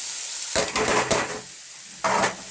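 Grated raw papaya dropped into hot oil tempered with green chilli and mustard seeds, giving bursts of loud close sizzling and scraping as the pieces hit the pan, then a quieter pause and another short sizzle.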